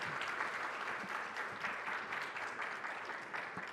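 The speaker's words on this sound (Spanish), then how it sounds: "Estoy recibiendo aplausos del otro lado." Remote audience applause at a Lima workshop on mediation in Latin America, a dense, steady patter of many hands clapping, faint and distant throughout.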